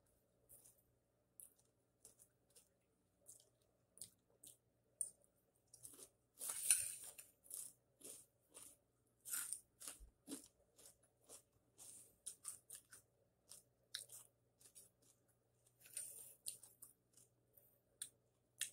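Crunchy ampaw, a puffed snack made from sun-dried leftover rice, being bitten and chewed in a quiet room, giving a series of sharp, brittle crackles and crunches spaced irregularly throughout, close and fairly soft.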